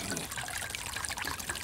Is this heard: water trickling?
yes